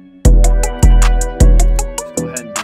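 Echo Park synth pad in beat-making software, sounding as punchy, booming chord hits with a deep low end, four repeated stabs over a few seconds, loud and close with no talking.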